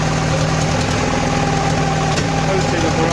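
A Lotus 907 engine idles just after starting, with unbalanced carburetors and a leaky exhaust, giving a loud, steady, close rumble that holds unbroken throughout.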